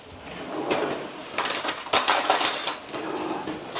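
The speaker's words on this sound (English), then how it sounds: "Gonna grab myself a plate." In a home kitchen, a plate is lifted out and set down amid scattered clinks and rattles of dishes and a spoon, forming a busy clatter of close, bright knocks.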